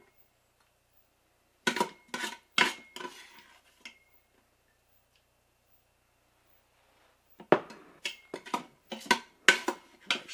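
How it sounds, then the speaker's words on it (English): Cooked wild rice blend, made in an Instant Pot with broth, scooped with a spoon into a bowl: several close, sharp scrapes and clinks in two bursts separated by a quiet pause, with no talk. "I'm going to put in a bowl to taste."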